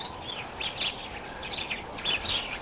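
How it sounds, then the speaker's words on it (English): Several small birds chirp in quick bursts close by in a hedge in mid-October, bright twittering calls coming and going against a soft background hiss. "if you listen very carefully, you can hear the birds building nests as though it's spring."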